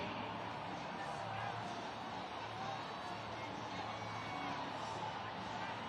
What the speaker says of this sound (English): You see the fans on screen right now, cheering fired up.